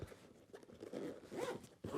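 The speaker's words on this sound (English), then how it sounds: "zips up, and it's good to go" A zipper closes around the Falcon 4G Combo Deluxe carry case, a quiet rasping run of fabric teeth with short pauses and a final brisker pull at the end.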